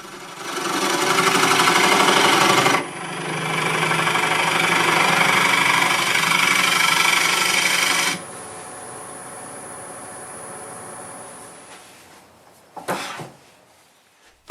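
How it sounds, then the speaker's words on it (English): Wood lathe spinning an urban-lumber bowl held by pressure while the tenon is trued with light cuts, a loud steady motor hum shifting in tone as cutting starts and stops, then dying away to a few clunks. "Now we can true the tenon."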